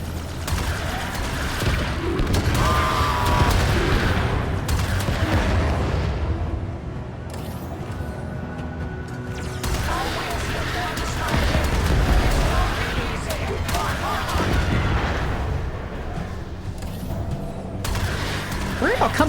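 Guided missiles launch and detonate in a space combat video game, a dense run of booms and blasts layered over a constant low rumble, loud throughout.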